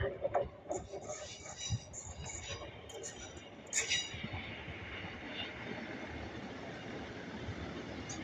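Class 150 diesel unit 150139 pulling into a platform at Bletchley station on the West Coast Main Line, rumbling in with metallic squeals and clanks early on, then a steady rolling hum as it slows, with faint background voices.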